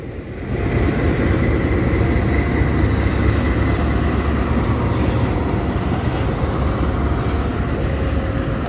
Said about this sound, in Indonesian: Kereta KLB berangkat stasiun Nagrek.